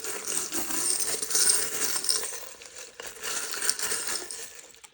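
Small metal tarot charms are poured out onto a surface in a continuous jingling, clinking cascade. The sound is bright and fairly close, swells twice and then thins out, with no talking.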